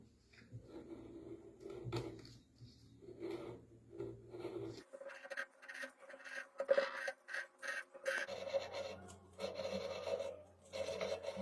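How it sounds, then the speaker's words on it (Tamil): A seized electric motor's fan, soaked in kerosene, is turned by hand, giving faint, close scraping and rasping rubs in short irregular bursts with quiet pauses between. "இவ்வளோ நேரம் வலதுபுறமாக காத்தாடிய சுற்றினோம் இனி இடதுபுறமாக சுற்றிடலாம்"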